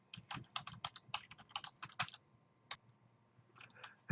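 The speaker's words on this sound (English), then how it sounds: "I can continue typing and put more line breaks" Typing on a computer keyboard: quick irregular runs of light key clicks with short pauses, close and fairly quiet, no voice over them.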